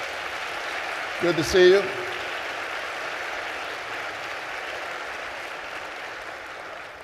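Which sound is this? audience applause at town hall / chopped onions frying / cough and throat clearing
audience applause at town hall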